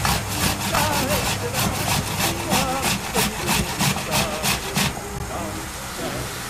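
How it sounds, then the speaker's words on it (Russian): Vegetables grated on a coarse hand grater for a quick borscht. About a dozen rhythmic rasping strokes sound close and loud, then stop, leaving a quieter kitchen background. "Измельчаем на крупной терке"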